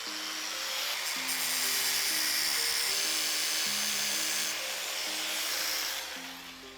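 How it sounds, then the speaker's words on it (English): An angle grinder cuts into a part of an SUV's AC compressor, a loud, continuous high-pitched whine and grinding hiss that holds steady for several seconds while the tone shifts slightly, close and with no talking. "I'll go get the angle grinder."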